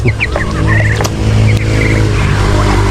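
Ducks on a backyard vegetable farm call with repeated nasal honking quacks close by, overlapping over a steady background hum with no talking.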